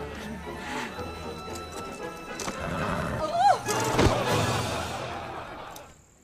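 A horse whinnies loudly midway, with hooves clip-clopping and stamping around it and faint voices in the background.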